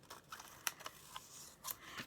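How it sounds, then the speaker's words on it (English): Scissors snip through packing tape on cardstock in a few quick, soft crisp cuts, close and quiet with no voices. "I'm going to use my scissors to cut off the edge."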